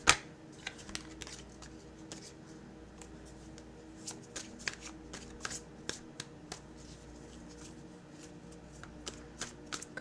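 Tarot advice and guidance cards being shuffled by hand, a steady run of crisp riffling clicks and slaps across the whole stretch, close and fairly quiet, with no talking.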